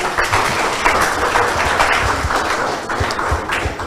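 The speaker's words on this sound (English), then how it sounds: "Please give them a big round of applause." An audience at a student debate on ASEAN membership and Timor-Leste education claps for both teams, a loud, sustained round of applause with some individual sharp claps standing out, fading slightly toward the end.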